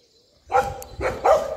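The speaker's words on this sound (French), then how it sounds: "plein de chiens." Several dogs bark in a run of three loud, close barks after a brief faint whine, each bark rough and overlapping with ground noise on an outdoor walk.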